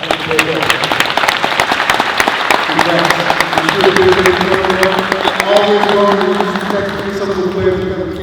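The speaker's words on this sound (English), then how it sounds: "please give a coach a round of applause" Loud, dense applause from a crowd at a basketball coaching clinic honoring a coach, many hands clapping close by in a steady wash, with voices talking and murmuring through it.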